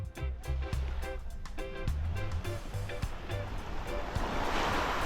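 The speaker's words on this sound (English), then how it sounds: "So this is Maho Beach here in St. John's, U.S. Virgin Islands." Waves breaking on the shore at Maho Bay beach, St. John, U.S. Virgin Islands, a continuous wash of surf with some wind, heard near and steady without speech, with a few faint rhythmic tapping sounds mixed in.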